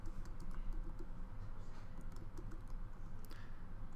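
A computer keyboard is typed on quickly and steadily, with close, rapid key clicks and taps continuing for several seconds and no talk over them.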